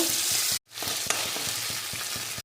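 Steady, loud sizzling of cashews and potatoes frying in a pan, with a brief break partway through and soft stirring clicks underneath.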